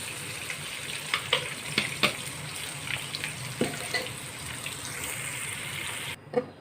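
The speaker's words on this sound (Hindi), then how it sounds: "अब इस बचे हुए ऑयल में हम चिकन डालेंगे और इसको फ्राई करेंगे अच्छा सा।" Chicken going into leftover oil for a potato chicken curry, frying with a steady close sizzle broken by a few sharp crackling pops and stirring clatters, no talk.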